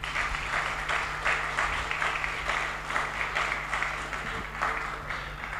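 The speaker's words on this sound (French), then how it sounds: "Un applaudissement un peu plus fort," Mourners at a funeral gathering applaud together, a moderately distant, steady wave of clapping that swells in pulses over a low constant hum.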